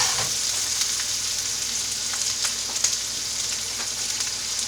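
Onion, pepper and other vegetables sautéing in a pan, a steady close sizzle with faint crackles and occasional stirring scrapes, no talking.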